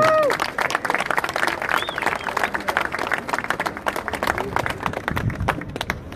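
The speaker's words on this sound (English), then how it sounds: "give a round of applause" A crowd at an outdoor free speech rally in Auckland claps loudly, with cheers and whoops rising over dense applause and some voices heard through it.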